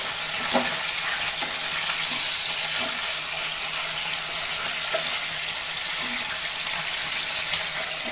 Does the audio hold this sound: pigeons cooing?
no